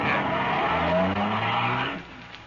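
A car guns its engine and speeds away, tires squealing across a loud, sustained rush that fades near the end, a close radio-drama effect played alone.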